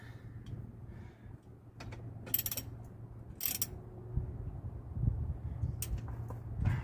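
Ratchet tightening a radiator fitting on a 1981 Mustang during an aluminum radiator install, giving soft clicking and mechanical rattles over a steady low hum, close but faint, with no one talking.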